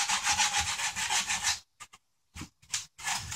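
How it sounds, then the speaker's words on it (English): Rhythmic back-and-forth rasping of sandpaper on a wooden toy, quick even strokes, then a pause and a few shorter scrubs, close up. "You can see as I'm sanding that black's coming off."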